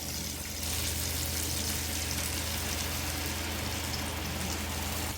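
Water poured into spice masala frying in oil for an okra curry, with a quieter sizzle that suddenly jumps to a loud, steady hissing crackle as the water hits and keeps spitting close by.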